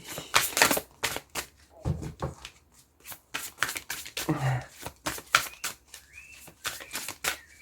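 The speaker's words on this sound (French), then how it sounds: "On va prendre une carte." Tarot cards are shuffled and drawn from the deck, a rapid series of crisp close riffling and flicking snaps in uneven bursts with short pauses.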